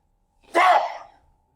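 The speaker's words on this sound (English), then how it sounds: "I'm about to sneeze." A single sudden sneeze in a classroom, one sharp burst that starts loud and tails off over about half a second, with nothing else around it.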